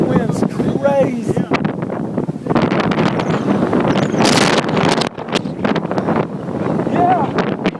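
Strong wind roars and buffets the microphone during the April 2011 Tuscaloosa tornado, a constant loud rushing with gusty surges, while people talk over it.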